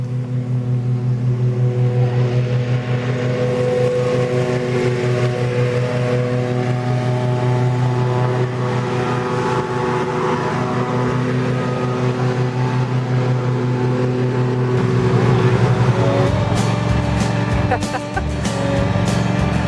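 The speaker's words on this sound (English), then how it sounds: "It's just the tractor." A lawn tractor's engine idles steadily with its mowing blades disengaged, a constant droning hum that holds throughout and swells slightly near the end, with faint voices talking over it.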